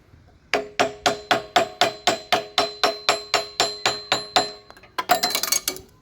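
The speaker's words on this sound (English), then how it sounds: "I'm going to tap it on with this block of wood to make sure I don't mess up the end of the pulley here" Steady, evenly spaced knocks of a wood block tapping a pulley onto a rototiller engine shaft, about fifteen sharp close blows followed by a brief flurry of quicker, clinkier taps at the end.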